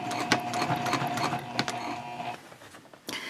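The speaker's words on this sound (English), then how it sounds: "I am going to backstitch, and I am sewing from the gusset side of the bag" Sewing machine stitching a seam on a messenger bag from the gusset side, quick mechanical whirring bursts with rhythmic needle ticks that slow and pause near the end, close and alone.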